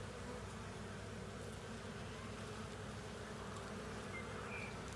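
Honeybees buzzing inside a beehive, a dense, steady drone that holds at an even level throughout without breaks.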